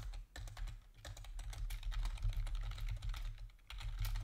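Keystrokes on a computer keyboard come in quick, irregular bursts, close and fairly quiet, over a low steady hum.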